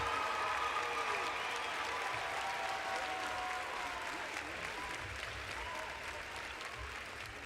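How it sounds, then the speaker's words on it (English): Sustained applause from the audience at a university social work convocation greets graduating undergraduate students, a dense, even clapping that fades slightly toward the end. "Please give a round of applause for our graduating undergraduate students."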